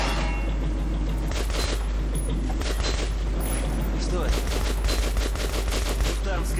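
Bursts of gunfire ring out in the video game Metro 2033, rapid shots crackling through the scene with players talking over them.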